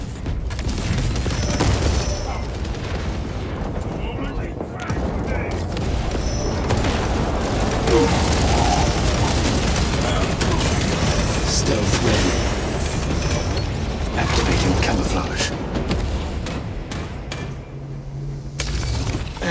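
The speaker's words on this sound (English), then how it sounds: "Crack grenade out!" Explosive booms and rattling gunfire from a Warhammer 40k Space Marine 2 PvP match, a dense, continuous wall of loud combat noise with repeated blasts and no speech.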